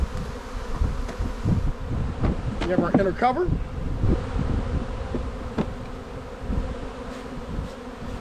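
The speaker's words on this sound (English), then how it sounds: "But you've got bees everywhere" Bees swarm and buzz densely around an opened hive at close range, a constant droning hum with individual bees zipping past the microphone, while a person speaks briefly over the buzzing.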